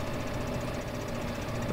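A tractor engine in Farming Simulator 15 runs at a steady idle, its low, continuous knocking rumble close and loud with no talk over it.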